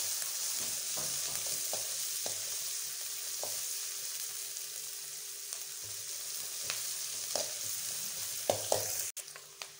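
Chopped onion and slit green chilli fry in hot oil for an egg fried rice, giving a steady close sizzle with a few light scraping stirs, and no voices.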